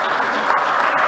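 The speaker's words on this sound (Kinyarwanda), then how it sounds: "Reka dukomere Imana amashyi." A church congregation claps in praise, a dense, steady roar of many hands heard close and loud in a brief burst, with no voices over it.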